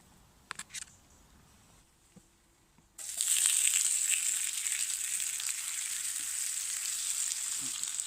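Food frying over an improvised grill at a camp: after a few quiet clicks, a steady close sizzle starts abruptly and keeps crackling evenly to the end.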